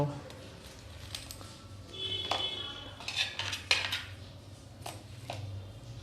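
Fried mixed pakodi, Indian vegetable fritters, being put onto a plate: scattered light clinks and scrapes of a utensil against dishware, close and intermittent, while someone talks.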